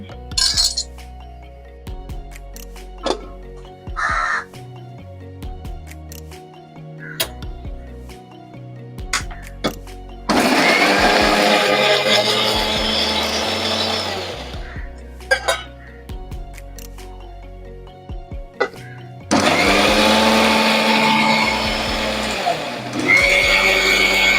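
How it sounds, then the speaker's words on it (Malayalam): A mixer grinder blends aloe vera and tulsi leaves into a paste for homemade ayurvedic soap, running in two long, loud, steady motor-and-blade bursts separated by quieter clinks and handling. "കറ്റാർ വാഴയും തുളസി ഇലയെല്ലാം കൂടി മിക്സിയിൽ നന്നായിട്ടൊന്ന് അരച്ചെടുക്കുക"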